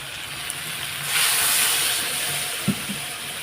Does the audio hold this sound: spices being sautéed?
yes